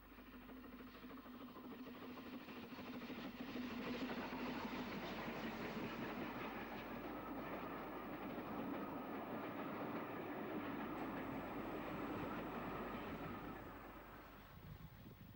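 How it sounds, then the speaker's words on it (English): British Railways Standard steam locomotive with double chimney, number 75077, hauling blue and grey coaches, a continuous rumbling roll with clickety-clack of wheels and some wind buffeting, steady and close, no voices. "The returning train is seen behind the double-chimneyed Standard"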